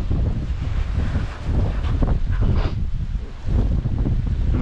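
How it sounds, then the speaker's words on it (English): Wind roars across the microphone during a fishing boat ride on a lake, a loud, constant buffeting rumble with water sounds beneath and no talking. "It's very windy."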